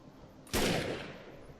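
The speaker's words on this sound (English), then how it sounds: "This is a semi-auto sniper rifle, which apparently I suck with." A single sharp shot from a semi-automatic sniper rifle in the shooter game Defiance cracks loudly out of near silence, then its echo trails off over about a second.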